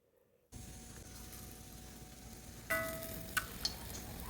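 Kappa (tapioca) snack dough drops into hot oil and fries with a steady, soft sizzling hiss that grows a little louder partway through, with a couple of small sharp pops near the end.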